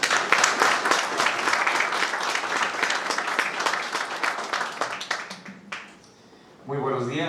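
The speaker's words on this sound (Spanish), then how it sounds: "recibamos a nuestro moderador con un fuerte aplauso." Audience applause welcoming the moderator to a book presentation on a proposed new Mexican constitution: sustained dense clapping from a crowd that fades off near the end before a voice begins speaking.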